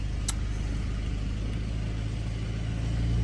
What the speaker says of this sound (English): Let's fire up that engine.